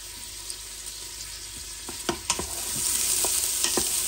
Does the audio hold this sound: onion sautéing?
yes